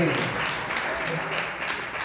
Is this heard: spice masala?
no